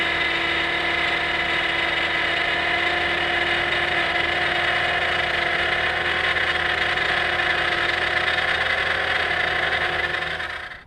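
A Subaru Outback engine idles steadily while a noisy power steering pump adds a constant whine, a loud continuous drone that holds evenly before cutting off at the end.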